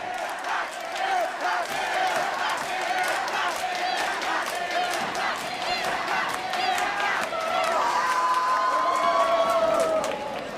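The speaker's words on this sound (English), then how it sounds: "You can hear the crowd is happy too." A large indoor crowd at a robot fighting competition roars and cheers continuously, with whoops and shouts rising above the din, swelling louder toward the end.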